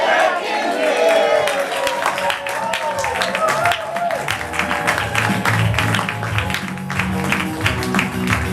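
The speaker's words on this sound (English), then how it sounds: "we're really going to need to start applauding after that" Sustained applause from a live theater audience, dense steady clapping with cheers mixed in, loud and continuous throughout, with voices calling out over the crowd.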